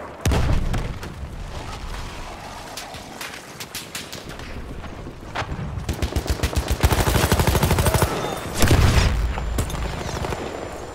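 Automatic weapons rattle in fast bursts during Battlefield 1 combat on PS4, with booming rocket-gun blasts and explosions cutting in, loud and near, shots coming in irregular clusters with short gaps.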